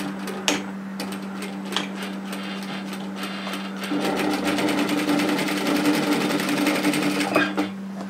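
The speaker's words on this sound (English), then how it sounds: "I'm going to stitch a line of stitching directly through this overlocking, starting at the hem." Sewing machine running steadily as it stitches a line through the overlocked edge at a dress hem, a continuous close mechanical whir with rapid needle ticking that grows louder partway through.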